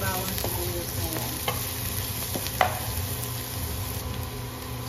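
Onion and garlic frying in a pan for ginataang maya-maya, stirred with a utensil, a close steady sizzle broken by a few sharp scraping knocks against the pan.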